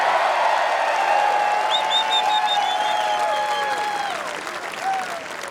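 A large outdoor crowd at the 2021 NHL Expansion Draft in Seattle makes a loud, sustained roar of booing and cheering that fades slightly toward the end, with no talking over it.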